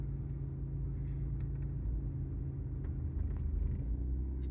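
A manual-transmission car rolls forward under a learner driver, its engine giving a steady low rumble that swells a little near the end, close and continuous with no talk.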